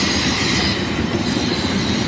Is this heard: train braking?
yes